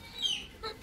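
Chickens and a rooster on a small poultry farm give two short, fairly faint clucking calls close by, with a quiet background between them.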